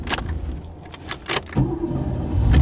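A 1991 Pontiac Firebird Formula idles after restarting, its low engine rumble building steadily and growing louder toward the end, with a few brief mechanical clicks and rattles near the car early on.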